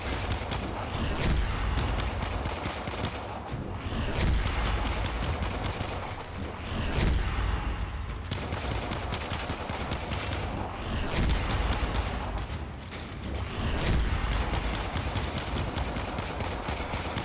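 Rapid pistol gunfire from the Warframe video game rattles in dense, near-continuous bursts, loud and close, with brief lulls between volleys and no talking.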